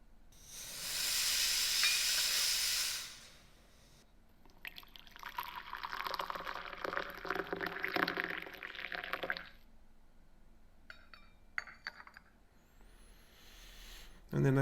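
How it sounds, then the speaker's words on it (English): Coffee being poured alongside clinking coffee cups, layered with a steam-like static hiss: a loud burst of hiss opens, then a long stretch of liquid pouring and cup clatter, with a few faint clinks near the end. "this effect, which you've already heard, which is just the coffee cups and the coffee pouring"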